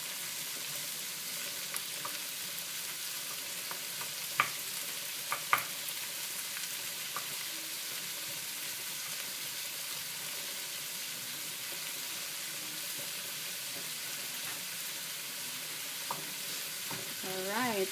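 Onions and garlic fry in a pan with a steady, even sizzle, broken by occasional light clinks and scrapes of a spatula being stirred through them.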